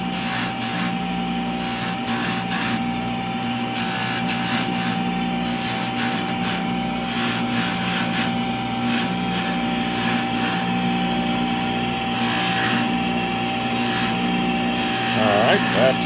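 A ring is polished on a spinning buffing wheel with Tripoli compound, giving a continuous motor whine and rubbing grind, steady and close, with someone talking over it.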